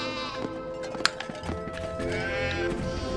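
Sheep bleating in the PS2 game Charlie and the Chocolate Factory, a few wavering bleats close by over a steady musical background, with faint clip-clop-like steps.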